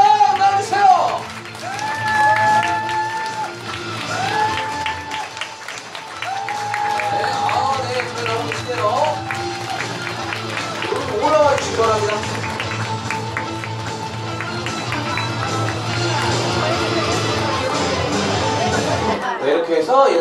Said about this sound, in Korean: 여러분들께서 큰 박수와 함께 소리를 질러주셔야지